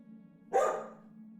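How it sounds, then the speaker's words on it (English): A single loud dog bark, a sound effect in a guided sleep story based on Elder Scrolls IV: Oblivion, rising sharply over a quiet low drone and fading quickly. "The loud sounds of your dog's bark breaks the deathly silence of the ritual"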